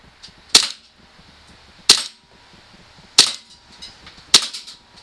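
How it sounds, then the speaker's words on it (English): A KJWorks KP-09 CZ 75 blowback airsoft pistol fires four sharp, loud cracks spaced about a second apart, each shot with a brief mechanical slide clack and no talking. "I'm gonna just finish shooting this magazine until it's empty"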